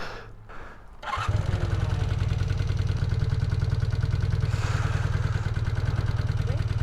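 A Honda CB250 Super Dream motorcycle, a rebuilt bike, fires up after a short quiet moment and settles into a loud, steady, close-up throbbing idle.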